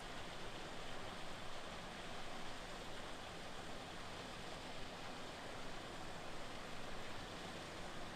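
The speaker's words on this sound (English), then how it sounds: "There's a waterfall. It's like a little dammed up section." A small waterfall at a dammed-up section of a stream on rural land in Sesmo, central Portugal, gives a steady, even broadband rush of falling water with no break.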